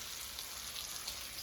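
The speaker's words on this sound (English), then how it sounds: "So now the pan is fully heated, the oil is sizzling." Oil sizzles in a fully heated frying pan before smelt fish go in, a steady, soft, continuous hiss with faint crackling pops and no one talking.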